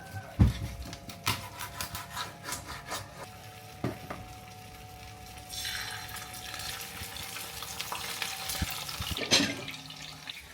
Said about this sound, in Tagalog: pipirituhin ko yung mga isda